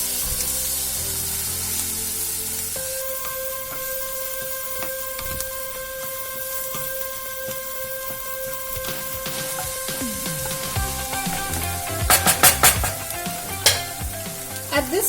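Eggs scrambled and frying in a pan for chicken fried rice, a steady close sizzle with stirring scrapes throughout, growing busier with sharper clatters of the utensil near the end.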